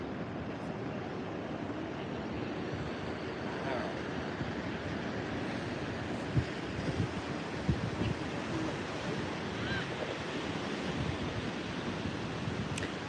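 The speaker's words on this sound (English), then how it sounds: "There, waves." Pacific Ocean surf at Morro Bay on California's Central Coast, a steady broadband wash of waves with wind noise throughout and faint voices in the background.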